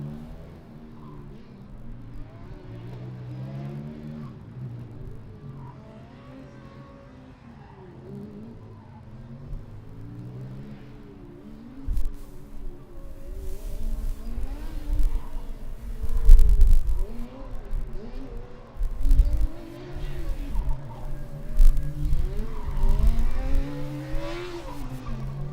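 A Formula Student race car on an autocross lap revs and shifts through repeated rising and falling engine notes, distant at first and growing louder and nearer, with bursts of tire noise.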